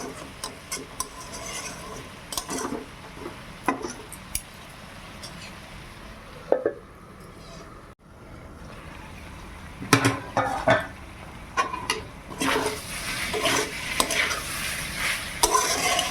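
Chicken stew being stir-fried in a pan, with intermittent scraping and stirring strokes over a soft sizzle that grows louder and busier toward the end; no talking.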